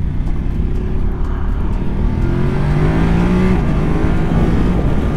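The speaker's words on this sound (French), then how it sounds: "petite voie d'insertion, histoire de sentir la petite accélération" A Voge DS900X adventure motorcycle accelerates hard along a motorway slip road, its engine note rising steadily and loud over constant wind rush, heard from the rider's position.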